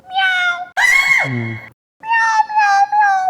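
A person imitates a cat, giving several loud, drawn-out meows with a short pause in the middle, then three more in quick succession. The mimicry is close and clear, with no other talk.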